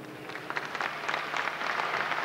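A large crowd claps steadily through the opening ceremony of Eurobasket 1987, a dense, even wash of applause heard from a distance with no one speaking over it.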